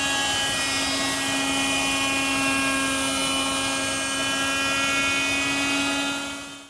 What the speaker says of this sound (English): That's done at the router table.